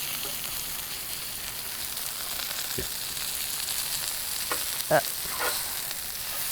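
Steak and mushrooms cooking in an Ooni pizza oven, a continuous close sizzle with a few scraping knocks from a utensil as pieces are flipped.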